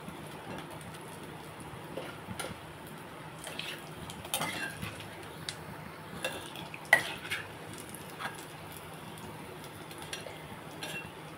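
Onion bajji fritters frying in hot oil give a steady, close crackling sizzle with scattered sharper pops and stirring clinks, and no voices.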